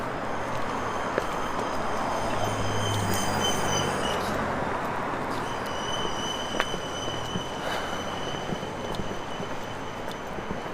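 A Bombardier train runs on rails with a loud, continuous rumble and rushing roar, thin wheel squeals drifting in and out and occasional clicks from the track.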